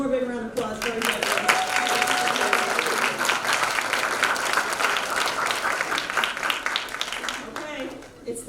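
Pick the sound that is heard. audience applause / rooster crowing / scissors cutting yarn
audience applause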